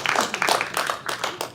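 An audience giving a round of applause: a short burst of clapping from many hands, near and fairly loud, rising and thinning over about a second and a half.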